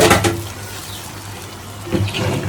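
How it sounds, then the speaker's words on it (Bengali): Water poured into a tomato curry cooking in a pan: a short splashing gush at the start, a quieter wash, then a second brief burst, close and fairly loud. "টমেটো জল দিয়ে দিই, সুন্দর করে কষাইছি।"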